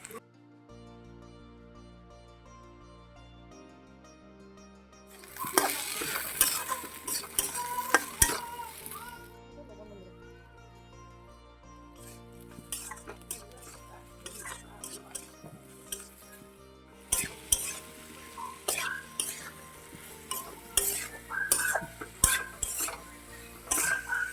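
Chilli, cumin and coriander powders stir-fried in a pan, quiet at first, then a sizzling surge with repeated clinking and scraping of a utensil against the pan, growing busier toward the end.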